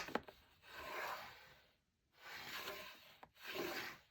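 Paper is scored and creased with a ruler in three slow, close, quiet rubbing strokes separated by short pauses, with no talk over them.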